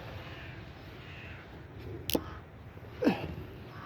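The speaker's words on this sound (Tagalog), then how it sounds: "Ang ingay-ingay nyo na naman, mga ibon." Two harsh crow caws ring out a second apart over a low background hum, fairly close and loud.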